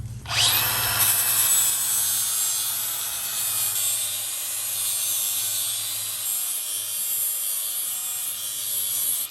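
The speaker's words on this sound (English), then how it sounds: "I ground off those corners a little bit, just not much, and now it slides on there" A power grinder takes the corners off a metal bolt, a loud, steady abrasive whine that starts abruptly and runs without a break for about nine seconds.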